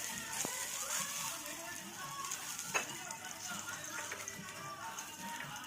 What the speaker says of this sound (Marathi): लसूण आणि तेल टाकून भाजून घ्या।